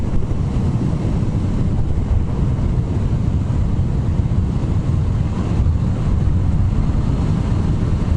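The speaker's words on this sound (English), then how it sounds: "the wind blast in this thing really drops if you sort of hunch forward" Steady roaring wind blast buffeting a motorcycle rider's microphone, a dense continuous rush with no gaps, loud and close throughout.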